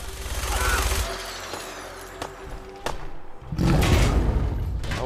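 Gunfire from a gun in Fallout 4, bursts of shots and heavy thuds rising and falling over game noise, loudest toward the end, with a voice talking at moments.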